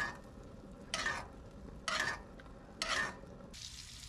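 Butter and rosemary sizzle as a steak is basted in a pan, a steady close hiss that swells in three spoon-pour bursts.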